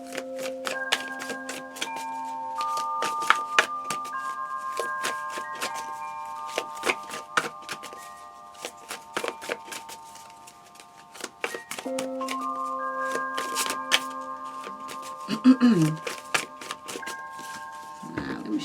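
Large oracle and tarot cards are shuffled by hand in a quiet room, giving a run of soft crisp riffles and taps over nearly twenty seconds, with a steady tonal hum in the background.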